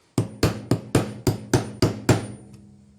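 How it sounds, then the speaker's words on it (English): Eight sharp hammer taps on wood in a steady, even rhythm, tapping starter holes into a guitar's neck pocket, close and fairly loud, with the last tap ringing out briefly. "So I've got those starter holes tapped in on the inside of the neck pocket."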